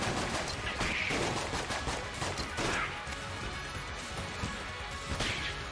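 Rapid gunfire from the twin-stick roguelike shooter Enter the Gungeon, dense bursts of shots and impacts crackling steadily throughout with sharp crashes layered on top, loud and continuous.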